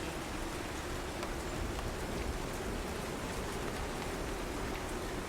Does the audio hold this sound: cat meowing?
no